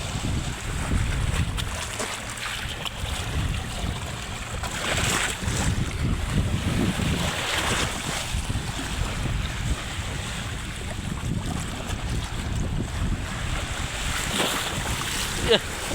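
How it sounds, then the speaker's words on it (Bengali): River water sloshes and waves lap continuously close by on the bank of the Padma River, with gusts of wind buffeting the microphone throughout. "পানির শব্দ বন্ধুরা"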